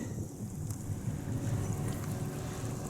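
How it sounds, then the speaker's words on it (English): A speedboat on a small lake in West Nebraska drones steadily in the distance, a low engine hum blended with wind noise buffeting the microphone, with no voices. "There's one guy out there in a speedboat."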